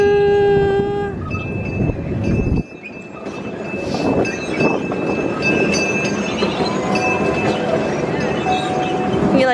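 A train passes, opening with a sustained whistle-like tone, then a loud rumble of rolling wheels with metallic clinks and squeals, close and continuous, with voices mixed in.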